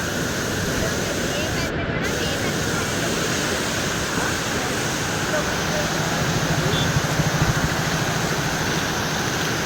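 A constant heavy roar of floodwater gushing through the opened sluice gates of Iranamadu reservoir rumbles without a break, with voices faintly audible beneath the noise.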